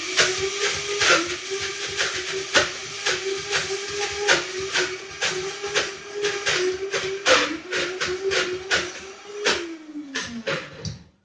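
A Vitamix blender churns cashew butter with chocolate chips, a steady loud motor whine broken by rapid clacking knocks as thick paste and chips catch, ending as the motor winds down near the end.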